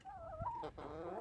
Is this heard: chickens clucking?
yes